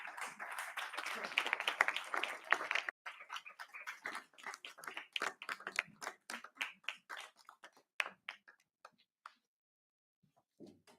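Audience applause at a youth summit as a performer comes up, starting as a dense burst of clapping that thins into scattered individual claps and fades out, with a brief faint voice near the end.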